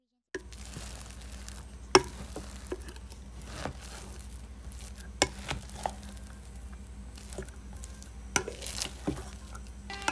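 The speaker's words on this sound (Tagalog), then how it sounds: "Haluin nyo lamang mabuti." Salad being stirred with sauce in a bowl: soft wet mixing and scattered light clicks from a utensil against the bowl over a low steady background, with occasional speech.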